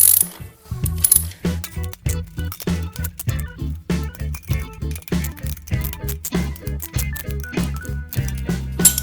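Wrenches tighten bolts on the cutter bar of a Hecht 587 sickle-bar mower, giving a fast, rhythmic ratcheting clicking that repeats steadily and sits close and clear.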